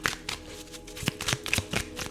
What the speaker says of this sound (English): let us shuffle another card.